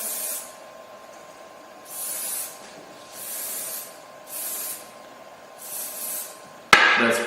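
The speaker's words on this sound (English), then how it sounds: "Okay, I will spray it from this side again" Spray can misting a part before 3D scanning: four or five short steady hissing bursts about a second long with gaps between, close by, over a faint constant hum, ending on a sharp knock as the part is handled.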